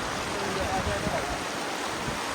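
At the crowded Badlapur barrage dam, pressurised water surges in a constant, dense roar close by, with someone talking over the flow.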